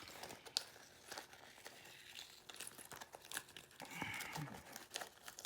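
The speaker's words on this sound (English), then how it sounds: "we are going to pull off tapes" Soft crinkling and tearing of tape being peeled from a vinyl zip bag, close and quiet, in several short pulls.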